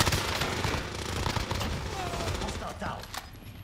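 Rapid bursts of gunfire in Call of Duty: Modern Warfare, dense overlapping shots from a close-quarters firefight with a shotgun nearby, quiet in level and crackling continuously, with talk mixed in.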